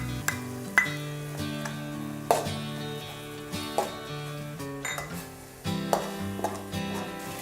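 Tomato with turmeric and garam masala fries in a pan for Maggi masala noodles, a steady sizzle broken by several clanks and scrapes of stirring at irregular intervals.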